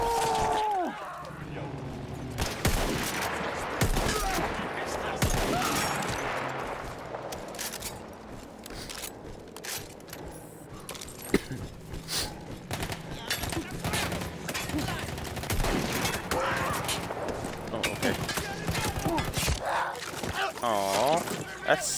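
Battlefield 1 gunfire crackles in dense, rapid bursts and volleys, loud and nearly continuous, with sharp individual shots cutting through, while a player talks over the combat.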